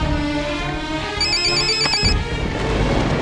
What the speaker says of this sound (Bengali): আরে দেখ কার ফোন এসছে দেখ